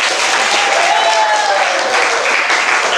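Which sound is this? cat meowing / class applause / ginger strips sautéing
class applause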